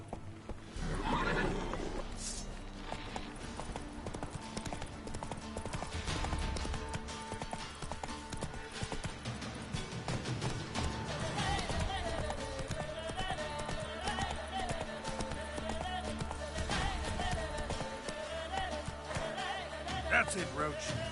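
Geralt's horse Roach galloping in The Witcher 3: Wild Hunt, with a neigh at the start and then rapid, rhythmic hoofbeats carrying on steadily. A player talks over the hooves at times.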